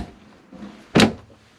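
A single heavy, solid thud as a solid wood door swings shut inside a 2023 Foretravel Presidential Series Class A motorcoach, sharp and close, after a brief quiet moment.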